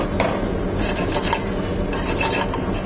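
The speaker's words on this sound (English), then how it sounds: "So now that it's going, I'm going to add the mushrooms." Sliced mushrooms go into a pan of sauteing sliced garlic, giving a steady close sizzle with scraping and stirring sounds throughout.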